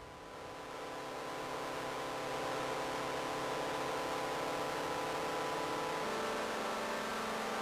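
A modular synthesizer chord voice with heavy distortion plays a sustained, buzzing chord that swells in over the first two seconds, then holds steady, shifting pitch once near the end.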